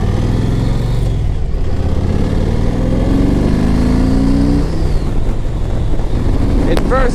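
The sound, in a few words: 2007 Yamaha Road Star 1700cc motorcycle revving in first gear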